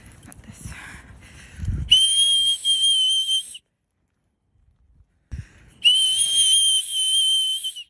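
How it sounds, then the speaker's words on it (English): Two loud, sustained shrill whistle blasts from a woman blowing a whistle, each lasting about two seconds and separated by a pause, heard close with a soft low rumble before the first. "She blew her whistle."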